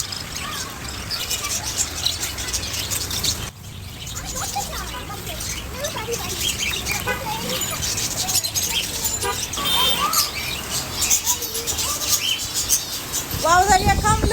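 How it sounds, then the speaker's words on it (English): Small pet birds chirp and tweet busily, a dense, noisy chatter of quick calls running throughout at close range, with a person's voice mixed in at times. "What a beautiful bird."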